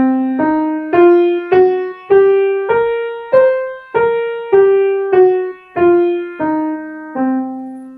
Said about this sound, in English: The blues scale sounds like this.